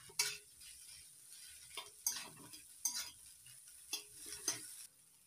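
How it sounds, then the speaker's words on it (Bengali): Potato filling for pumpkin leaf rolls is fried and stirred in a pan, with faint sizzling broken by irregular spatula scrapes and clinks every second or so. "এবার একটু ভেজে নিচ্ছি ভালো করে"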